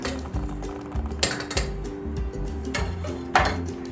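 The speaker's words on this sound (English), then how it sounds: "Then I'm gonna take my strained noodles and just pour them into a bowl." Strained macaroni noodles are tipped into a bowl with soft metallic scrapes and a few sharper clinks, over a steady low background hum.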